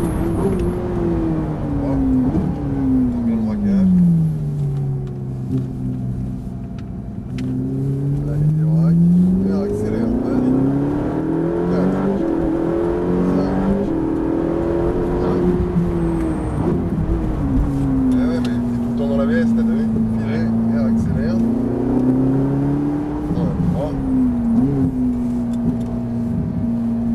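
A Ferrari 458 engine accelerating and easing off on track, its pitch rising and falling in long sweeping waves for nearly half a minute, heard from inside the car under steady conversation.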